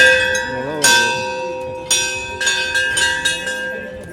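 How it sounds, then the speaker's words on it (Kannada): A small temple bell at Anjanadri hill in Karnataka is struck about six times in an uneven rhythm, each bright, close metallic ring overlapping the lingering hum of the last. "ದೊಡ್ಡದಕ್ಕಿಂತ ಸಣ್ಣ ಗಂಟೆನೇ ಜೋರಿದೆ ಸೌಂಡು"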